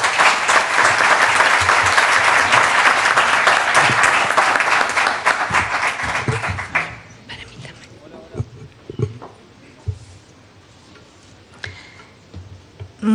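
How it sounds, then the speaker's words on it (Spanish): Audience at a book presentation breaks into loud, dense applause for about six seconds, then it fades to scattered claps, shuffling and light room noise. "La recibimos con un fuerte aplauso."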